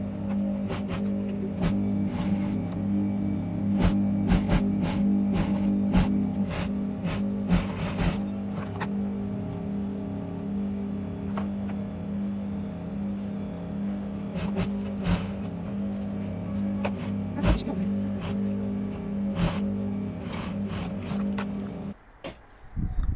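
Sewing machine stitching a lace-edged neckline, a steady low mechanical hum with faint rapid needle ticking running continuously, close and moderately quiet, with no talk.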